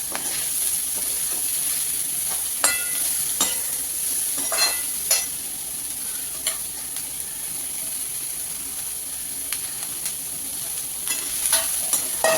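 Cabbage stir-frying with half a spoon of turmeric in oil, a steady close sizzle and hiss with occasional scraping stirs and clicks of a spoon against the pan, and no talking.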